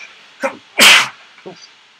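A single loud, close sneeze bursts out, preceded by a short sharp intake of breath, with faint sounds after.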